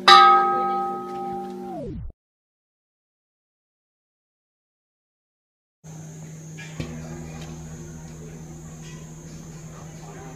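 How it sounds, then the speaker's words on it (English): Temple bells at Doi Suthep in Chiang Mai: one loud ringing strike decays over about two seconds, then after a silence another bell rings with a sustained hum, its tone steady and fairly close. "We got all these bells."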